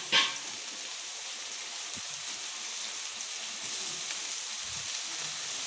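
Carrot, capsicum, onion and tomato fry in a pan with a little garam masala, giving a steady, even sizzle that hisses close and continuous throughout, with a sharp clink at the very start and no talking.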